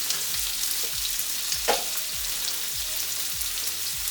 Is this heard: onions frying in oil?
yes